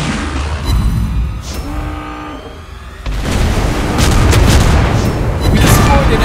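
Heavy booming explosions from bombs dropped by a dive bomber squadron onto an enemy ship in World of Warships Blitz, loud and rumbling, mixed with dense battle noise and swelling in the second half.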